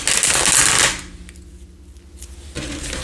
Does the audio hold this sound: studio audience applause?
no